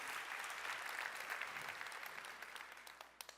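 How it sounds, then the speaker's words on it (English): Audience applause for Yoshua Bengio at the ALL IN 2025 AI event in Montreal: a dense, steady crowd of clapping that slowly thins and fades, ending in a few scattered claps. "And you could clap because Joshua's probably here."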